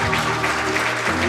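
Loud, close clapping from an audience at a Namibian professional hunting association session, a brief dense burst over a low hum.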